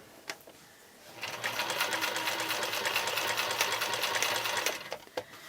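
Sewing machine fitted with a walking foot stitching binding through many quilt layers, a steady close motor hum with fast needle chatter running about three and a half seconds, with brief clicks before and after.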